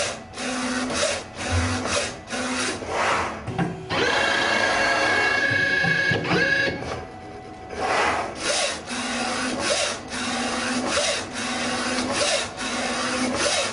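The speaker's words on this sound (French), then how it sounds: "la particularité de cette imprimante, c'est qu'elle va non seulement imprimer l'objet, c'est-à-dire fabriquer physiquement" A colour 3D printer building an object, giving a steady mechanical whirring and rubbing with rhythmic pulses and a sustained high motor whine in the middle, close and moderately loud, with no speech.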